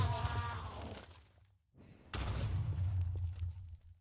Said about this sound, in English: That makes it do like a little explosion and then light everything on fire now.